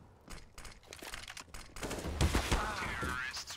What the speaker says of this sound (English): That's a bad duel with the UMP, or any SMG at that point.